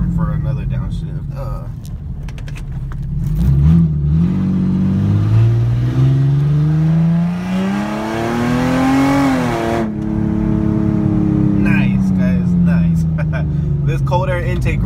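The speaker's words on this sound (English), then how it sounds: "Downshift. Oh, I don't have enough room for another downshift." A Ford Mustang with a cold air intake revs loudly through a downshift on a cold day, the engine note climbing and falling in long sweeps, with a voice talking over part of it.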